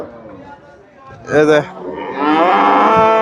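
A cow gives a loud, drawn-out moo up close at Chandaikona cattle market in Bangladesh, with a shorter lowing call before it and faint crowd murmur in the background.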